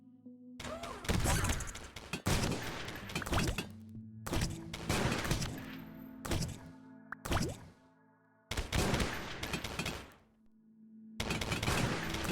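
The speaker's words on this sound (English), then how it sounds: "stop shooting the wall" Gunfire in the survival game Keplerth: repeated bursts of loud, sharp shots in clusters separated by brief gaps, with steady tonal game sounds humming underneath and no speech.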